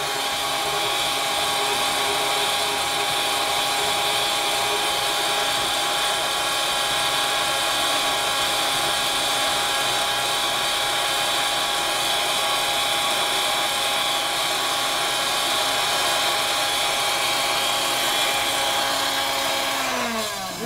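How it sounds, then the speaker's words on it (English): A homogenizer runs while mixing a lotion emulsion in a single beaker, giving a loud, continuous high-pitched motor whine that holds steady and then winds down at the end. "That is the homogenizer running."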